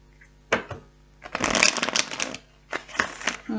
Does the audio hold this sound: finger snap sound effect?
no